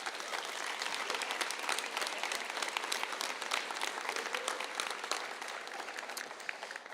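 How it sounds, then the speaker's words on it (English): Sustained applause from an audience at a 2022 adult and family education commencement ceremony, a steady dense patter of many hands clapping at moderate volume throughout. "One more round of applause for this staff"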